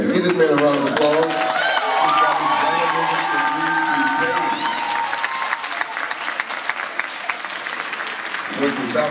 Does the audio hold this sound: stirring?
no